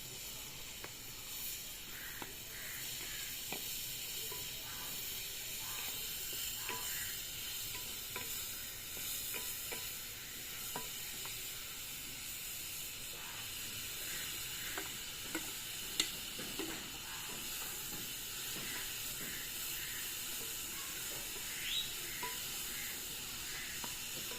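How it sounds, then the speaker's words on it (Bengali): Grated carrots sizzle steadily in hot ghee with raisins while being fried for carrot halwa, a continuous soft hiss with occasional light stirring scrapes and no voices. "গ্রেট করে রাখা গাজরগুলো আমি এখন ভালো করে ভেজে নেব"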